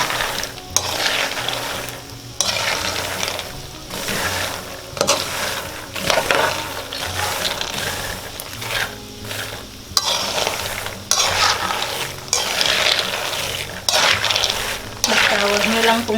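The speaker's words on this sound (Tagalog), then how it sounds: "Halo lang ng halo." Peanuts frying in a pan are stirred continuously, giving a steady scraping sizzle with repeated rhythmic stirring strokes, close and fairly loud throughout.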